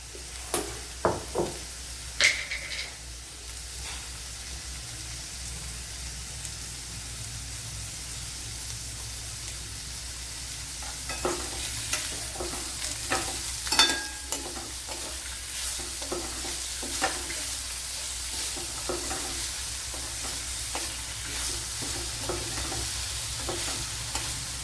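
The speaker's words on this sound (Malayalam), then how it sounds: "അപ്പോൾ ഇവിടെ സവാളയൊക്കെ വഴണ്ട് വന്നിട്ടുണ്ട്." Onions sauté with a steady sizzle in a pan, and a spoon or spatula scrapes and knocks against the pan again and again. The stirring is close and clear, with no talking.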